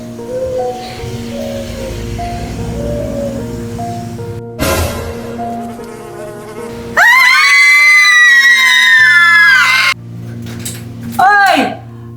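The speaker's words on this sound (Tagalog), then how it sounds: "Bakit kayo sumisigaw dyan?" People scream and shout loudly in a tense household scene, with sustained high-pitched screaming voices after a stretch of confused talk and clatter, ending in a shorter final shriek.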